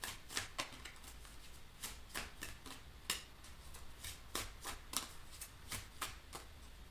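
Tarot cards from an energy healing deck shuffled by hand, a quick run of crisp riffling flutters and soft slaps repeating steadily, close and fairly quiet with no talking.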